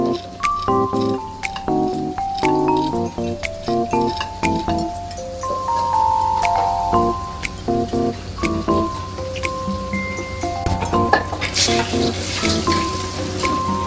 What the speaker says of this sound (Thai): เดี๋ยวเราจะไปทอดอีกรอบเน็นตอนไฟแรงนะครับ